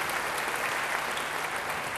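A church congregation at a sermon claps together, a continuous even wash of applause from the room, moderately loud and unbroken for two seconds, with no voices on top.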